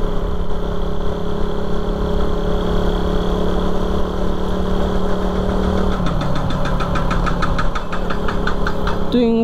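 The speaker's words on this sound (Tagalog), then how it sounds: "Ganun yung tunog ng tambutso, di ba? Yung natanggal yung tambutso natin." Motorcycle engine running with its exhaust pipe detached, a loud, rough idle with a steady throbbing drone that shifts to a faster, rattling pulse partway through, with no voices over it.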